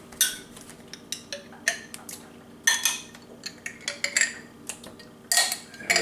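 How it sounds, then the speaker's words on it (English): A spoon stirs a cheese dip in a bowl, giving a run of close, irregular scraping and clinking strokes against the dish, with brief quiet gaps between bursts and one heavier clatter near the end. "You get a spoon so we can stir all this together"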